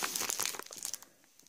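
Plastic bag packaging from a surprise toy box crinkles and rustles sharply up close as it is torn open, with a dense burst of crackling that thins out into a few soft crinkles.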